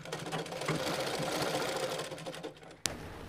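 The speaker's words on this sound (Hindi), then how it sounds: "अब हम इसमें सिलाई देंगे।" Sewing machine stitching folded palazzo pant fabric, a steady close mechanical whir of rapid stitches running for most of the time, then a sharp click as it stops.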